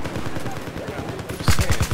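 Gunfire in Battlefield 4 on the Operation Metro map, a dense crackle of automatic weapons from many players with a louder nearby burst of rapid shots near the end.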